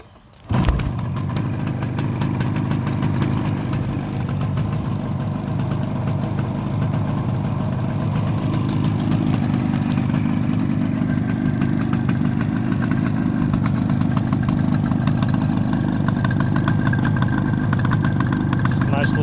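A 1973 Suzuki GT250 two-stroke motorcycle starts on its center stand and idles steadily and loudly up close, with a fast even throb and a quiet top end. Someone talks over it at times.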